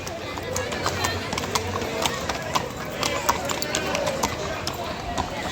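Horse hooves clip-clop on a road at Matheran hill station, an irregular run of sharp knocks close by, mixed with people talking and crowd noise.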